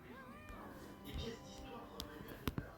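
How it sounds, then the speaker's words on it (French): A small whiskered cat meows with a few short, thin calls over a busy outdoor background, and people talk nearby. "C'est un petit chat avec des moustaches."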